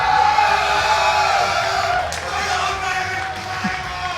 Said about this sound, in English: Can you guys cheer for some Halo?